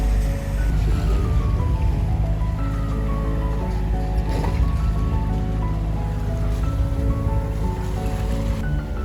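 A sailboat motors along under engine power at 4.7 knots in no wind off Messina, Italy, with a loud, steady low engine drone and harmonic hum, mixed with water rushing along the hull.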